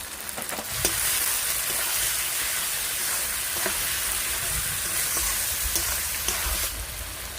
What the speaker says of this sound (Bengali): মশলাটা ভালো করে একটু কষি নিয়েছি আর মশলা থেকে তেল ছেড়ে দিয়েছে